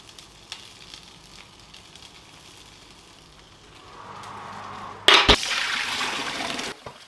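Zucchini halves set face down in a hot pan: quiet background first, then a sharp burst of sizzling as they hit the oil, settling into a steady loud hiss of frying.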